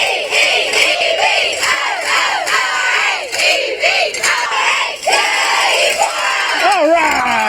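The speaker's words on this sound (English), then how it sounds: "here's a little snippet for our cheer team of the week" The Eupora Eagles cheer team shouts a loud, rhythmic chant in unison, with rising and falling group yells and cheering filling the space close by.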